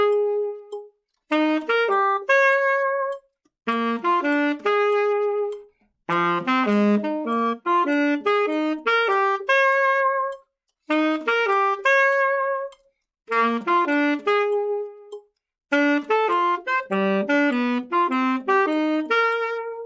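Jazz 12-bar blues chord tones played one note at a time in varied order, clear pitched phrases in short bursts separated by brief pauses, with no voices.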